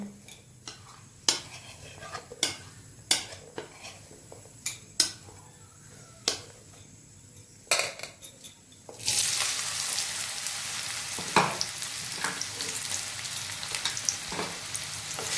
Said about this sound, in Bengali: এইভাবে বারবার সয়াবিনগুলোকে আমি নাড়াচাড়া করে ভালোভাবে ভেজে নেব